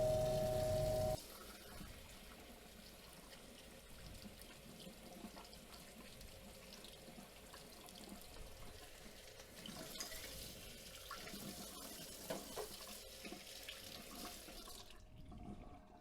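Running tap water in a sink rinses a freshly recovered gold button after flux removal, a steady close hiss and splash that carries on alone for most of the stretch before cutting off near the end.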